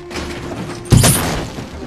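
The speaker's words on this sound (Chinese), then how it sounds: "安东没有言语直接开枪" A single gunshot from the film No Country for Old Men, fired inside a drug gang's hideout, lands as a muffled, booming thud that fades quickly over a low ambient hum.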